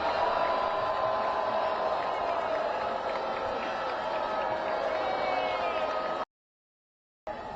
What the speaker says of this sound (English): Boos erupted from students and guests